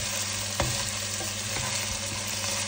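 Chopped garlic and onion fry in a pan for chicken adobo, giving a close, continuous sizzle with a couple of soft stirring knocks and no voices.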